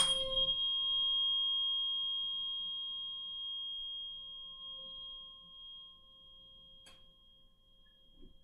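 A struck 528 Hz tuning fork rings with a pure, sustained tone and faint overtones, fading slowly over several seconds, with a light tap midway.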